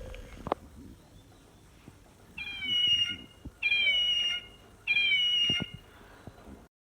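A soft plush toy cat gives three squeezed, electronic-sounding meows in a row, each a bright, wavering cry lasting under a second, close and clear against a quiet room.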